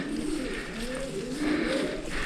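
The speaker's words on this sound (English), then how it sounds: "There were two doves," Close, soft cooing from doves or pigeons, low repeated rolling coos overlapping over a couple of seconds against a quiet outdoor background.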